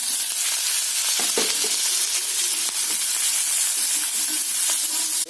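Spinach, dal and onion sauté in a hot pan, giving a steady, loud sizzle throughout with occasional stirring scrapes and crackles.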